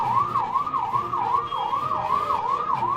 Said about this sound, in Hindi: एम्बुलेंस यहाँ से गई है